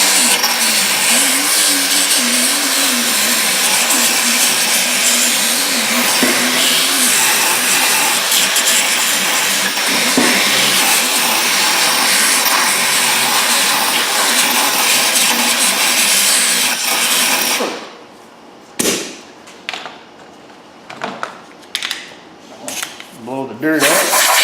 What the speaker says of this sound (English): Blow the dirt out.